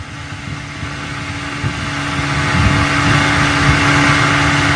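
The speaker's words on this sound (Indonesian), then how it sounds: "Deru ombak silih berganti dengan suara mesin pompong mengantarkan kami dalam perjalanan menuju Pulau Selat Desa." Pompong boat engine chugging on a sea crossing toward Pulau Selat Desa, a loud steady low throb with droning harmonics that builds slightly in volume, mixed with rushing wind and wave noise.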